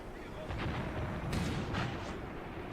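Gunfire from infantry pioneers in the Graviteam Tactics war game, a dull rumbling series of muffled shots and booms at a distance over a steady noisy background.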